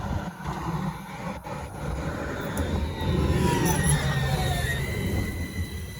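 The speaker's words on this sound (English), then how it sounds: "Hey, it's a tram." A tram rumbles past close by in Sweden, a steady low roar with rising squeals and metallic screeches from the wheels, no voices.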